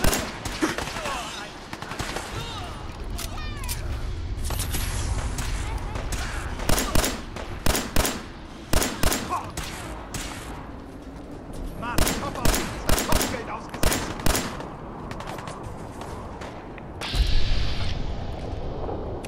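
Gunfire in Fallout 4, sharp repeated shots in quick bursts and single cracks over a rumbling game soundscape, loud and close, with a voice speaking at times.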